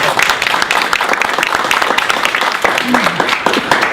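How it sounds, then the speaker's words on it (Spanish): An audience at a community center tribute event applauds with dense, sustained clapping throughout, while voices and crowd chatter mix in beneath the applause. "Por favor, un aplauso a Jaime y a todos los panelistas."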